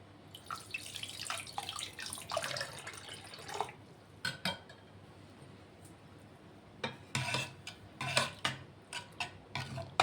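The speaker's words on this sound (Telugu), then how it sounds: "ఇప్పుడు ఇందులో కొంచెం వాటర్ వేసుకుంటాను" Water poured into mashed toor dal in a pot for gongura dal, quiet bursts of splashing and trickling that come and go in short irregular spurts with pauses between.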